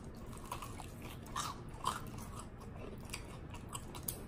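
Crunchy breaded fried chicken being bitten and chewed close up, a few sharp crisp crunches standing out over a quiet, steady room background with no talking.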